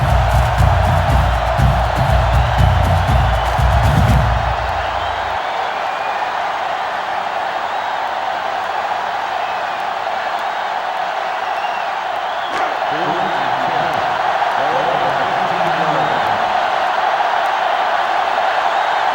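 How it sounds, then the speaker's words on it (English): A roaring stadium crowd cheers in the NCAA Football 2005 video game, loud at first and then dropping to a sustained background roar, with a commentator talking over it. "It's arguably the loudest crowd in the nation, and they are turning it up a notch."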